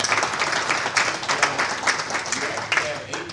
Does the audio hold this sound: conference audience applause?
yes